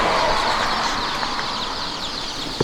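A rescued chicken clucking outdoors in windy conditions in Vietnam, a few soft clucks over steady wind noise, ending with a brief rustle or flap.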